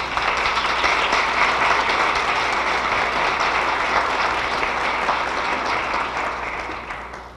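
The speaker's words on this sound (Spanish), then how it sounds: "Les pido un fuerte aplauso para la senadora Lisbeth." A crowd at a youth and family forum gives a senator loud, sustained applause, dense and even throughout before tapering off at the very end, with no talk over it.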